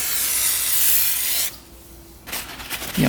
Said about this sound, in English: I spray this all down with brake cleaner.